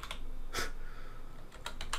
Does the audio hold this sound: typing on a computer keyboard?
yes